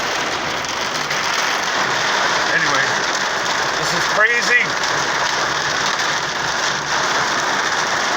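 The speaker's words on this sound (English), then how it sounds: "Now it's raining again, but behind me it's hailstorm." Rain and hail drum steadily on a car during a storm with hazard lights on, a dense constant patter filling the scene while someone talks briefly over it.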